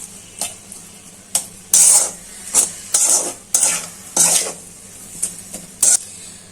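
Small shrimp are stirred and fried with salt in a pan for a snake gourd dish. Repeated loud scraping strokes of the spatula come in irregular bursts over a low sizzle, with no voices.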